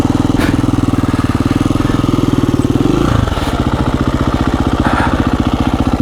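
A KTM 350 EXC-F dual-sport dirt bike engine while riding, a loud, close, steady pulsing thrum that drops in pitch about halfway through before settling into an even, throbbing run.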